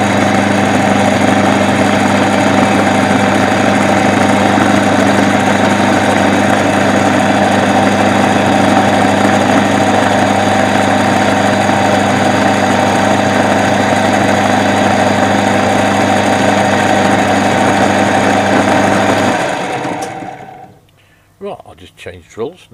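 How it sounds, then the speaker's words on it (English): Lathe drilling a 3.3mm tapping hole, a loud, steady machine hum with a constant drone that runs unbroken for nearly twenty seconds before cutting off, followed by a few faint clicks and knocks. "Right, away we go now for drilling the hole."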